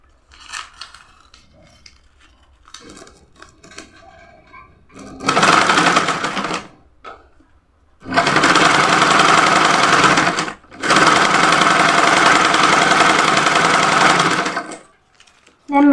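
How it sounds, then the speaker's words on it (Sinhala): A sewing machine stitches along the hem of an off-shoulder dress in three loud, steady runs of rapid whirring, separated by pauses with soft handling and murmured speech between them. "නමාගෙන දැන් මේ වාටිය දිගේ මේ අයිනෙන්ම මහගෙන යන්න තමයි තියෙන්නේ ගවුම"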